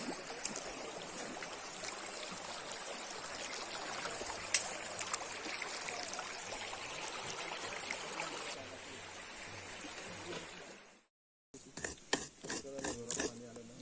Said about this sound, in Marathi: डिसेंबरमध्ये पण व्हाळात पाणी आहे, कारण व्हाळात पुन्हा एकदा साखळी सुटली.